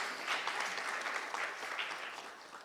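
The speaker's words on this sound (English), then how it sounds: "Ladies and gentlemen, that does call for a round of applause." Audience applause at an award presentation in a conference session, a steady dense clapping that holds at an even level throughout with no voices on top.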